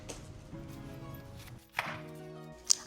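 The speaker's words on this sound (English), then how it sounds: "now I'm just slicing it into smaller pieces" A knife slices through rinsed cabbage on a board, making a few soft, faint cuts and taps over quiet background music.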